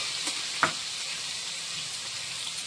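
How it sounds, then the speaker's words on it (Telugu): Ginger and garlic fry in hot oil while a chicken pickle is being made, giving a soft, continuous sizzle with one brief louder crackle early on. "అల్లం ఎల్లిగడ్డ మంచిగా నూనెలో గోలాలి."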